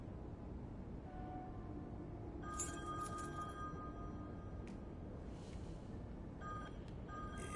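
A truck reversing in the video game The Wolf Among Us gives repeated high electronic beeps in short groups. They sit over a steady low engine drone that is moderately near and heard alone, with no talking.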